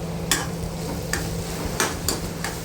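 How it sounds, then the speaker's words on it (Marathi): Onion and masala sautéing in a pan with coriander for dry prawns, a low sizzle broken by several sharp clinks and scrapes of a spoon stirring against the pan. "हे सगळं परतून घेते व्यवस्थित थोडीशी कोथिंबीर टाकून घेते"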